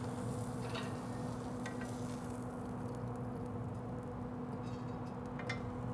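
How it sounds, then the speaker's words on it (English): Tortillas laid on a hot grill to warm beside steak, a steady low sizzle and hiss with a few faint crackles, close and constant, with no talking. "I'm gonna throw some tortillas down to warm"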